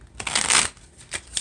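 Love Oracle tarot-style cards are shuffled up close in quick riffling bursts, a long swish followed by two shorter ones, with no talk.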